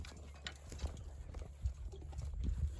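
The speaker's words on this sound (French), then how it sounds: "J'envoie mes chevaux et j'accompagne en faisant rouler ma charrue." Draught horses pulling a plough in a spring field, heard as close, uneven hoof thuds and the creak of the tack. Speech can be heard faintly in the background.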